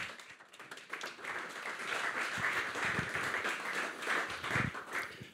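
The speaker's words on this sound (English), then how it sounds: "Please, a round of applause, please, for Alan Gow." An audience at a BMW motorsport event with the British Touring Car Championship applauds a guest coming on stage, the clapping starting softly and swelling into steady, sustained applause for several seconds.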